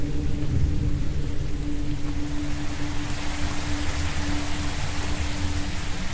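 Rain in an Indonesian horror video game, a loud, steady wash of rainfall with a low rumble beneath and no pauses.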